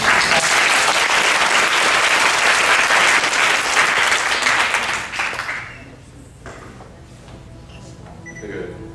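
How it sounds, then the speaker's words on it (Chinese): Loud, dense audience applause fills a concert hall at a Christian music festival, sustained for several seconds before fading into quieter room sound. "那我们再用热烈的掌声来欢迎。"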